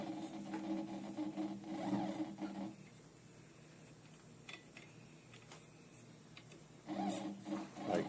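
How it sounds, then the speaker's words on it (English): Force feedback motor driving the x-axis of a prototype device, giving a steady mechanical whir with a faint tonal hum that swells, drops away mid-clip, then returns strongly near the end; no talking. "That force feedback is coming primarily from this motor here for the x-axis."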